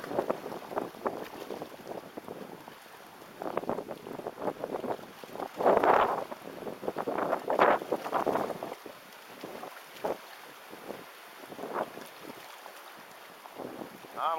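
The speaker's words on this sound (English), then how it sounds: "because it's pretty windy out here." Strong, gusty wind buffets the microphone by the river during Hurricane Hermine, with rushing surges and water chop slapping the shore in the background.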